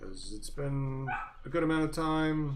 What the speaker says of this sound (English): the storm is driving my dog crazy, so I apologize for the barking.